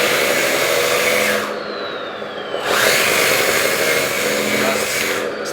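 Metal 1/14-scale RC hydraulic bulldozer (JDModel DXR2 JDM-98) drives with a continuous whining electric motor and gear hum, briefly dipping and shifting pitch mid-run, close and fairly loud.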